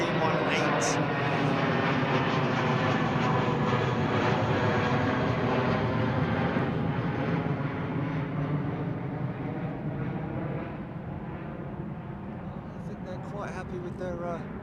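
A Loganair ATR turboprop departs London Heathrow runway 09R, a loud sustained engine roar with a low droning hum that slowly fades into the distance, with talk over it.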